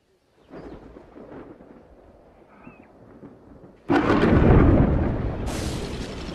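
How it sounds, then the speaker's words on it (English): Thunderstorm over African bush where lions roam: a low rumble builds softly, then a sudden loud crack of thunder breaks in and rolls on as a broad, heavy roar to the end. "The storm ignites the bush"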